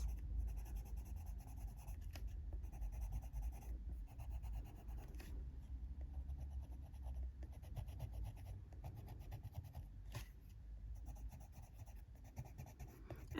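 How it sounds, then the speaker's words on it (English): White coloured pencil burnishes blank areas of a colouring-book page in quick, rhythmic scratchy strokes, very faint and close, with brief pauses between bursts of rubbing. "Now going in with the white 101 to burnish all the white space."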